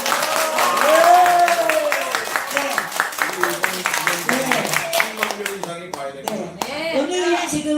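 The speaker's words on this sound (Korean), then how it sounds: "힘찬 박수를" An audience at a patriotic seminar on an impeachment lawsuit claps in a close, rhythmic run of hand claps that thins into scattered claps toward the end, with voices talking underneath.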